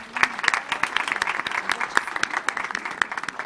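Audience applause for a speaker at an autism accessibility forum debate, steady dense clapping from a moderate-sized crowd lasting a few seconds, fairly distant in the room.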